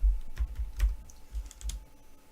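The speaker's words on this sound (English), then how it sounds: "let me type in clear" Computer keyboard clacking as a command is typed, a quick run of close, crisp keystrokes in an uneven rhythm with brief pauses, no voice over it.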